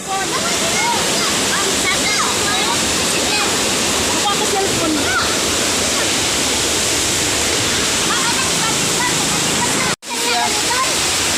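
A waterfall on a river pours in a loud, continuous rushing roar that stays steady throughout, with voices faintly under the water noise and a brief cut near the end.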